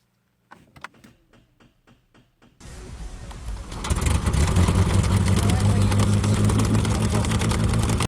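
A 5.2 liter V8 car engine, powered by a portable jump starter after a dead battery, gives a few quiet clicks, cranks briefly, then catches and roars into a loud, steady idle close by.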